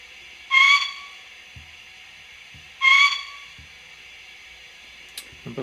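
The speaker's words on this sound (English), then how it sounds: "Number 4 is the bell or whistle." Two short steam whistle toots, about two seconds apart, from a Bachmann 009 Double Fairlie model locomotive's DCC sound decoder, each a bright shrill blast over a faint background hiss, followed by small clicks.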